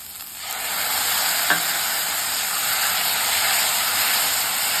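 Chopped tomatoes sautéing with onion and ginger garlic paste in hot oil for an egg masala, giving a steady, close, dense sizzle and hiss for the whole stretch with no talking.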